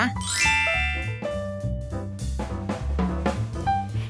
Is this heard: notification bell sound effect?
yes